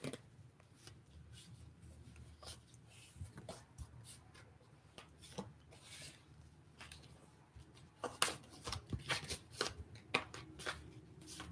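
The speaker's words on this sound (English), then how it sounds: "I'm going to reshuffle these, see what happens." Tarot cards being reshuffled by hand, soft papery rustles and slides followed by a run of sharper taps and flicks, close but faint in a quiet room, without talk.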